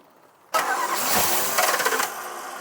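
A barn-find Aston Martin V8, primed through its carburettors, cranks and fires after a short quiet pause, then settles into a loud, rough idle with a few uneven surges, close up.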